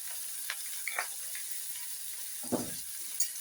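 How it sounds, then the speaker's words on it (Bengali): Vegetables stirred with cumin and coriander powder in a pan for masala oats, a faint low sizzle broken by a few sharp spatula taps and scrapes. "মশলাগুলো দিয়েও আমি একটু ভালোভাবে এগুলো 2-1 মিনিট নেড়ে চেড়ে সবজির সাথে মশলাগুলো মিশিয়ে নেব।"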